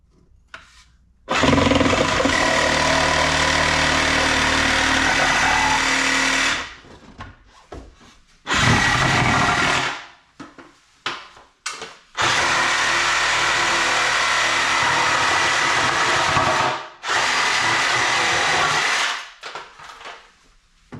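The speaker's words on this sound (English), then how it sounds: "Trying to cut straight with the Sawzall is a very difficult task, to say the least." A Sawzall reciprocating saw cuts through material while building a mobile detailing rig, its harsh buzzing rasp coming in several loud bursts of a few seconds each, separated by short pauses, heard up close.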